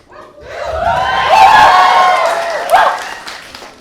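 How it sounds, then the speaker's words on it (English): Live crowd at an all-Asian comedy show during a Pride edition breaks into loud, sustained applause with cheering and whoops, swelling to a peak and then tapering off over several seconds. "I wish that's how everyone reacted when I get just a room full of people applauding"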